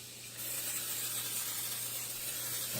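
A steady, soft hiss of olive oil aerosol spray onto a non-stick pan starts abruptly and continues unbroken for a couple of seconds, close by, with a faint low hum underneath.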